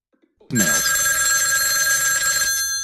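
A telephone rings loudly before a voicemail plays back, a bright electronic ring that starts abruptly after brief near-silence, holds steady for about two seconds and then cuts off, with no talking.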